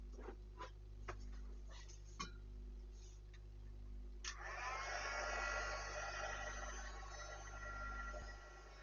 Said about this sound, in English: So, heat tool again.